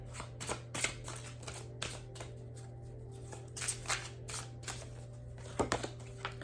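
Animal oracle cards being shuffled by hand, a run of crisp riffling and flicking bursts at uneven intervals, close and clear over a steady low hum, with no talk.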